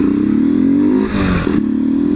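A Honda XRE 190 motorcycle engine revs hard, tuned to sound like a BMW 310, a loud steady throaty drone held close with a brief dip midway before climbing back up.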